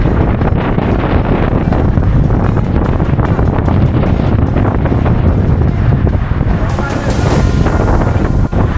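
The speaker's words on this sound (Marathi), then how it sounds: "वारा बघू शकता किती सुटला आहे" Strong wind on a fog-covered hill fort roars and buffets the microphone continuously, with a rushing broadband blast that swells and gusts throughout, loud and close.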